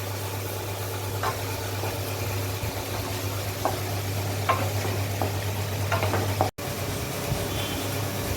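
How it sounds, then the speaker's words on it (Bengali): Chowmein noodles stir-fry in a pan with a continuous sizzle and occasional scraping stirs, over a steady low hum, with no talking. "ও চাউমিন বানাচ্ছে, আরও ভাজা হবে।"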